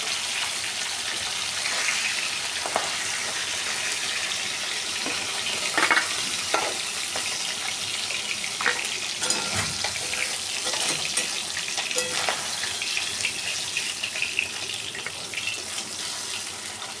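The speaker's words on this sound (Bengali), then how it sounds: "মাছের মাথাটা একদম খুব ভালো করে ভাজা হয়ে গেছে।" Fish heads fry in hot oil in a kadai, a steady bright sizzle with scattered pops and crackles running the whole time, close and loud, with no talking.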